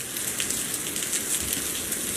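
Heavy rain pours down steadily, a dense continuous hiss of drops drumming on surfaces with no pauses, close and loud throughout.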